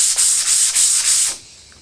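Sandpaper rubs by hand across a wood finish in five quick back-and-forth strokes, loud and close with a rough hiss, then stops.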